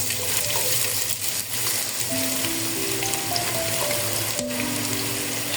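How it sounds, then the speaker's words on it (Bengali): Onions hitting hot mustard oil already spiced with whole garam masala, giving a loud, steady close-up sizzle and crackle that runs unbroken the whole way, with a few soft stirring scrapes and no talking. "এখন আমি গোটা গরম মশলাগুলো দিয়ে দিলাম তেলে। আমি এখন এখানে পেঁয়াজ দিয়ে দিব।"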